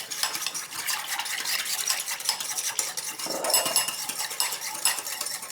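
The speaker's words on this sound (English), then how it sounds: "And I'm just going to whisk it together." A whisk beats garlic powder into an apple cider vinegar dressing in a bowl, fast close metallic clinking and scraping in a continuous rhythm.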